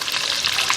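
Turmeric fries and is stirred in a hot pan for a chicken curry, giving a dense, close, steady hiss of sizzling oil with no voices.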